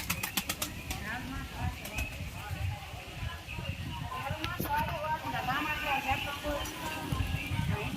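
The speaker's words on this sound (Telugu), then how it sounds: "ఇంకా 4 or 5 బర్డ్స్ ఫ్లై చేస్తున్నాం." Racing homing pigeons released in the morning flap and clatter their wings in sharp bursts as they take off and land nearby, with voices talking in the background.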